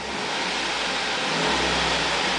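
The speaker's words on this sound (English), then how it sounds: "Keep an eye on the tachometer and rev the engine." A 2009 Chevrolet Avalanche pickup with a 5.3-liter V8 revving while parked, a steady loud engine roar that swells slightly partway through and holds without pause.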